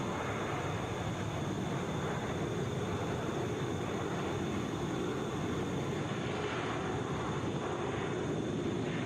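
A Boeing 737 airliner at Atlanta International Airport gives off a constant, dense engine rumble, broad and unbroken, with a faint whine riding above the wash of jet noise throughout.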